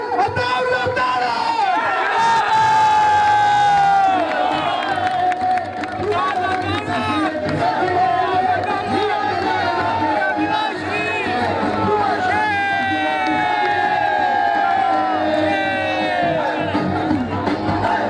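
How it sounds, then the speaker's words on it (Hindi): Large crowd at an outdoor political rally in Green Town, Lahore, cheering and shouting together for nearly twenty seconds, a dense continuous roar with rising chant-like bursts and a voice over a loudspeaker. "तमाम भाई तालियों की गूंज से नारों से इस्तकबाल कीजिए।"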